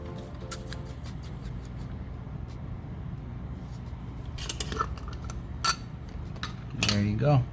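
A big glass jar of homemade sazón seasoning shaken, granules rattling against the walls in a brief close burst near the end, after a stretch of quiet kitchen clatter.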